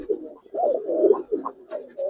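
Giribaz pigeons, colored chila, gorra and khaki birds kept for sale, coo in soft, low, repeated throaty bursts close by, with brief pauses between the phrases.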